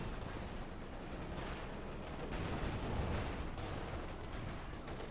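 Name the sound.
StuG assault gun firing in Company of Heroes 2 video game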